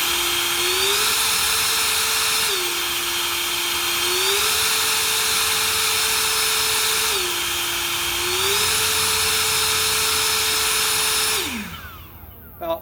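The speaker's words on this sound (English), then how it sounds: "this is the 670 CFM on turbo mode." An Ego 670 CFM battery leaf blower on turbo mode roars loud and close with a steady high whine whose pitch dips and rises twice before it winds down and stops near the end.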